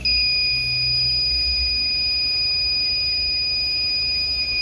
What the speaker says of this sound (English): we're gonna hit this guy with the leak detector